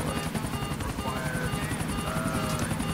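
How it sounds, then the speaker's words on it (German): A police helicopter in the video game GTA IV flies overhead, a steady loud rotor chop and engine whine filling the scene throughout with no speech. "da kommt auch schon ein Kumpel, Polizeiheli"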